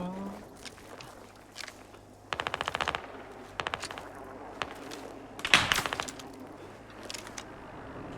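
Bursts of automatic gunfire in the Squad military shooter game, several short rapid volleys at mid distance with a louder nearby burst near the end, amid scattered footsteps and battlefield clatter.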